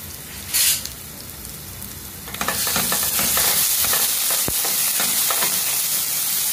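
A tempering of ground ginger, garlic and green chili paste with a pinch of asafoetida hits hot oil and breaks into a loud, steady sizzle after a brief quieter start, with scattered stirring clicks, no voices.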